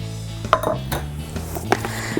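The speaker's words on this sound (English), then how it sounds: "So I'm gonna grab a pan." A metal baking pan for butter tarts is grabbed and set down in a kitchen, giving a few sharp clanks and rattles in quick succession, close and fairly loud with no speech.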